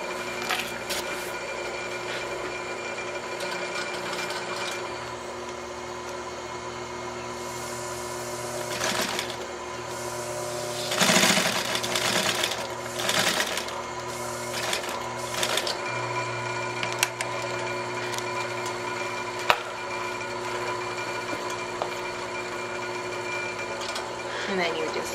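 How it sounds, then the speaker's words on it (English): A sewing machine stitches a leather belt in a steady, close mechanical whir, with several louder clattering bursts partway through and a sharp click near the end. "we're going to finish up here with the stitching portion"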